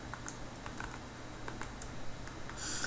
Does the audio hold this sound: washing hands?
no